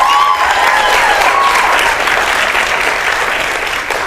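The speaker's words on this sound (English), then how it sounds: "Big round of applause for Kira" An audience at an onstage demonstration applauds loudly for a participant, the clapping sustained and full before tapering slightly toward the end.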